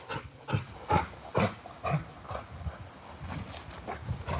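A dog plays in water, making a steady run of rhythmic splashes about twice a second at close range, with no voices.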